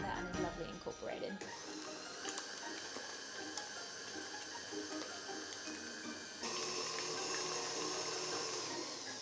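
An electric mixer beats gingerbread bundt cake batter on high speed with a continuous whirring, gear-like drone that grows slightly louder and brighter partway through.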